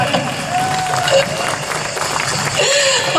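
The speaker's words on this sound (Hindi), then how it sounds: "बहुत अच्छे, जोरदार ताली।" Audience at a school stage drama on saving daughters, a dense wash of clapping and crowd noise filling the hall, loud and steady, with voices mixed in.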